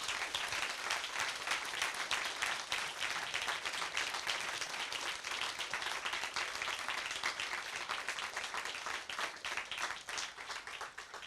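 An audience at a Barbara Kingsolver talk on Dickens in Appalachia bursts into sustained applause, dense and even clapping from a large crowd that runs the whole length with no talk over it.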